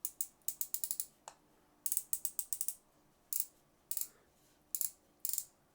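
The drag on a Piscifun Alijoz baitcaster fishing reel ratchets out in quick bursts of crisp, light clicks, separated by short pauses. The sound is close and quiet against a silent background.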